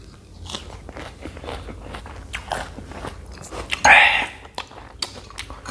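Someone eats Thai fermented-fish chili dip (nam prik pla ra) with rice and fresh vegetables, giving close, moist biting and crunchy chewing sounds with one louder crunch midway.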